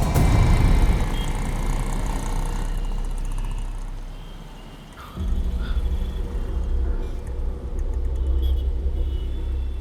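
Car engine rumbles loudly nearby as the vehicle pulls out, dips briefly, then surges again in a steady drive-away roar.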